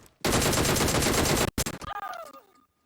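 Automatic gunfire in the mobile battle-royale game PUBG Mobile on the Erangel map, a dense sustained burst lasting over a second, then a short gap and a quicker run of separate shots trailing off, loud and close.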